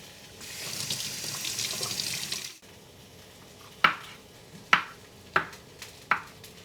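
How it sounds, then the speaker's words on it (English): Cremini mushrooms are rinsed under a kitchen tap: a close hiss of running water for a couple of seconds, then it stops and several sharp knife-on-board chops follow at an irregular pace. "And I'm going to cut my mushrooms. Cremini mushrooms. I'm going to rinse them a bit."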